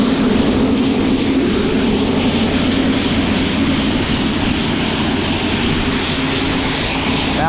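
Loud, steady roar of a farm grain dryer fan blowing at full speed, with a constant low drone and broadband rush running unbroken and close throughout.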